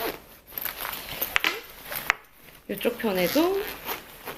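A zipper on a travel pouch opens and closes in a few short, sharp zips, heard close up beneath someone speaking Korean.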